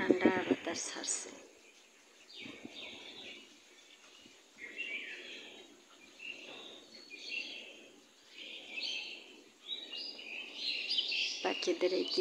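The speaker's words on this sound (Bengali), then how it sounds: "পাখিদের এই কিচিমিচি ডাক" Birds chirp outdoors on a cool, cloudy morning in repeated bright twittering bursts, fairly faint, with wind nearby and a voice at the start and end.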